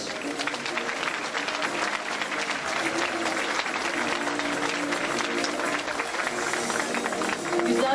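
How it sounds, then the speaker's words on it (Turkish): A school graduation ceremony audience gives a loud, sustained round of applause, dense clapping from a large crowd with cheering and voices mixed in, swelling slightly at the end. "sınıf öğrencileri için kocaman bir alkış"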